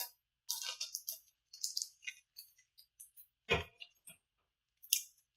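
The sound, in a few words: cutting tape off a comic book package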